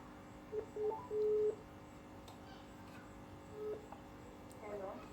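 Several short telephone keypad tones sound as a call is dialed, spaced irregularly over a steady low background hum, moderately faint.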